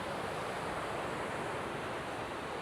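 Steady broadband roar of ocean surf on Da Nang beach in Vietnam, waves washing in continuously without a break, fairly close and moderately loud with no talking.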